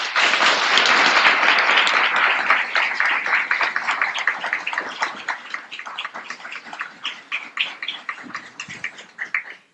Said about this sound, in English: please let us receive Sister Ava Muhammad with a round of applause